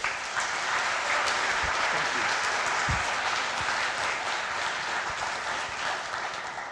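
An audience gives sustained, even applause to welcome the speaker Stuart Maconie, a full room of clapping that holds steady for several seconds before easing slightly at the end.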